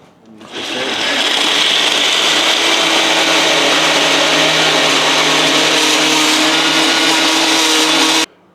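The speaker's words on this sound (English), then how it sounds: "And then put this on the blender" A blender mixing a protein shake whirs loudly at a constant high speed, starting abruptly, droning steadily for several seconds, then cutting off.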